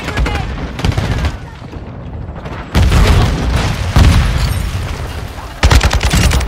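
Grenade explosion in Call of Duty, a loud close boom with a long rumbling tail, mixed with bursts of gunfire and further heavy impacts through the battle noise.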